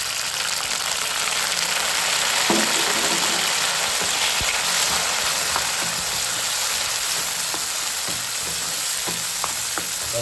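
Onions for vegetarian bonda kara kuzhambu sizzle steadily in an oiled pan, giving a constant bright frying hiss. Occasional spoon scrapes and taps come through as they are stirred.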